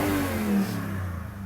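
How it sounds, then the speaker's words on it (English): Naturally aspirated V8 of a 2020 Toyota Sequoia TRD Pro revving briefly, a deep engine roar that swells then settles back, heard close and without talking. "normally aspirated V8"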